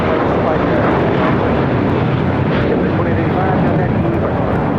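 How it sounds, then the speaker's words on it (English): A JetBlue Airways Airbus A321 takes off at LAX bound for Miami, its engines producing a loud, continuous roar that fills the scene, with a voice faintly talking over it. "This is Suavementa taking off to Miami, Florida on an A321 JetBlue Airways 2885"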